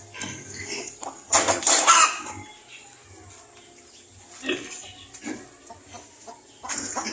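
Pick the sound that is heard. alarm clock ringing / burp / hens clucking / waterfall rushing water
hens clucking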